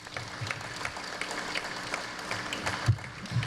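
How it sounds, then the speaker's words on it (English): Applause at a political forum for parish president and sheriff candidates, scattered claps from a modest audience at moderate level, fairly thin and uneven with a couple of louder claps near the end. "Please give these gentlemen a round of applause."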